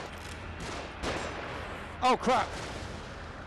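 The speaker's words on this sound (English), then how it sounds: "They're shooting from above." Enemies in The Evil Within shoot guns from above, a few scattered shots over quiet game ambience, followed by a short exclamation from a man.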